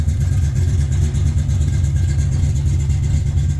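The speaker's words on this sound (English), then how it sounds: "Cold start, just backed it out." A 1981 Ford Mustang Foxbody runs at a steady, slightly raised idle just after a cold start, a loud continuous low engine rumble close by with no break in the drone.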